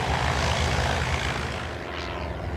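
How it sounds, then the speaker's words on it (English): A small propeller plane in an animated short film, diving beneath a bridge, makes a steady, loud engine drone that holds an even level throughout without pause. "Sure enough, they dove that small plane right through."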